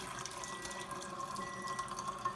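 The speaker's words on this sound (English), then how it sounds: "So I'm going to turn the water on here, get my cloth wet" Tap water runs steadily into a sink to dampen a cleaning cloth, a constant close, moderately loud rushing stream with no talking.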